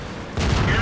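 A single sharp tank gun shot from World of Tanks, a sudden loud boom partway through the brief moment that stays heavy and rumbling to the end.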